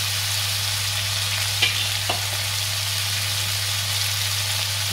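Diced yellow pumpkin with turmeric and salt sizzles steadily in a hot pan, faint and continuous, with a couple of soft scrapes of stirring and no talk.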